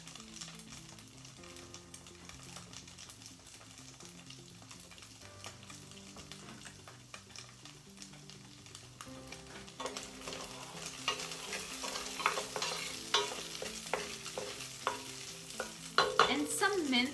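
Onions sizzle in a pan while being stirred for a Catalan-style squid tomato sauce; quiet frying at first, then louder crackling and scraping stirs, close and without talk.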